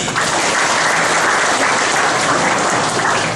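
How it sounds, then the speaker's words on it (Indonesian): Dense, loud audience applause at an inspirational talk held at a military district command in Banyumas, a steady wall of clapping from start to finish with no talking. "Tepuk tangan dulu dong."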